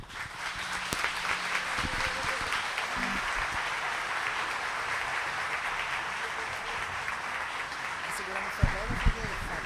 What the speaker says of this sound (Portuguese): Pode aplaudir mais, porque foi maravilhoso.